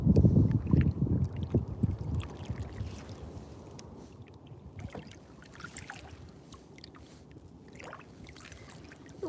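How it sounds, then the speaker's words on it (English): Wind gusting outdoors beside a canal with locks, buffeting the microphone with low rumbling bursts that are strongest at the start and then settle into a steadier rush, with faint water trickles. "the wind's picking up out here."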